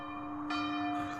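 A church bell rings with a sustained, ringing tone, and a second strike layers in partway through, loud and close.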